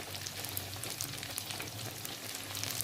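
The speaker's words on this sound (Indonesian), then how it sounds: "Goreng sampai matang ya, sesuai selera, mau kering atau basah." Bakso meatballs deep-fry in hot oil with a dense, continuous sizzle and crackle that stays steady and close throughout, with no voices.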